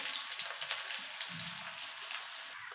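Chopped onion with nigella seeds and dried red chillies frying in a pan: a steady, dense, rain-like sizzle that continues evenly throughout, with faint stirring underneath.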